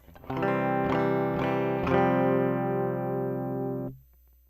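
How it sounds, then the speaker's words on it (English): A clean electric guitar played through an AITONE pedal strums a few chords, then lets them ring out loud and sustained before cutting off. "And so the guitar sounds like this."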